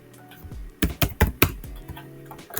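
Keys tap on a computer keyboard while a line is edited, with a short cluster of four or five crisp keystrokes in the middle and a few softer taps around it, close and fairly quiet.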